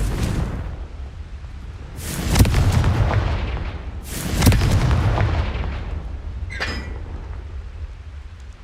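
Spell blasts from the Confringo fire spell in the game Hogwarts Legacy, two loud broadband bursts a couple of seconds apart, each rumbling and decaying over a low noisy bed, with a brief shimmering magical tone afterward.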